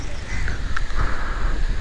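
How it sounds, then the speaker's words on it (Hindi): Strong windstorm with dust blowing over a cattle farm during silage making, a loud, steady roar of wind buffeting the microphone, rough and continuous throughout with no clear talk. "यार बहुत तेज तूफान आ गया और आंधी आ गई है।"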